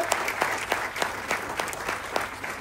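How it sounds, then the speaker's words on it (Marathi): An audience claps steadily at a Marathi film poster launch event, a sustained round of applause from a crowd with individual claps audible and no talking over it. "मेघराज राजे भोसले सरांसाठी जोरात एकदा परत टाळ्या वाजवा."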